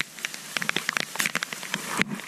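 Heavy rain pours down steadily, with dense, scattered drops spattering and crackling close by on a surface throughout, growing slightly heavier toward the end, with no voices.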